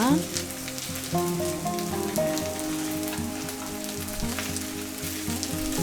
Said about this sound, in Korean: 팬은 뜨겁게 달군 다음에 양불로 부쳐내는 겁니다